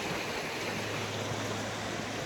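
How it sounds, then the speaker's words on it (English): A small creek runs over rocks, giving a steady, close broadband wash of flowing water that holds constant throughout, with a low hum underneath and no voices. "Just the sound of the water flowing over the rocks"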